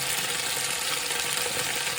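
Sweet peppers sizzle and crackle in a hot pan, a bright continuous hiss close by with no one speaking.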